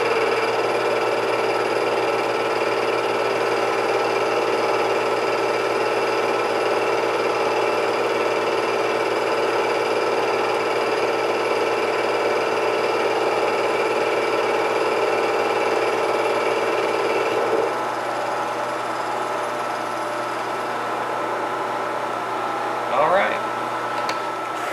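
A milling machine makes a finish pass across a compressed air manifold: a steady, loud whine with strong harmonics holds for about seventeen seconds, then drops to a quieter hum with a brief clatter near the end.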